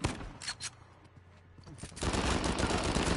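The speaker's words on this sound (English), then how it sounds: "look how fast he's shooting, man" Rapid automatic gunfire from a suspected cheater in Uncharted 4 multiplayer on PS4, a dense loud burst filling the second half after scattered quieter shots and game noise.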